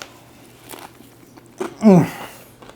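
A bite into a crunchy pancake taco makes a single sharp, loud crunch near the end. Softer, quieter handling noises come before it, and no one talks.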